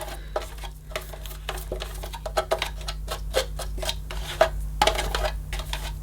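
A small vintage 1970s Joustra toy vacuum cleaner whirring with a steady low hum, overlaid with busy clicking and rattling, close by and continuous.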